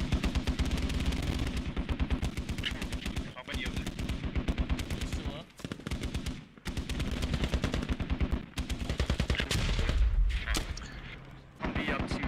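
Squad battlefield combat with long bursts of machine-gun and rifle fire, rattling continuously in fast volleys broken by a few short pauses, loud and close, with a voice speaking over parts of it.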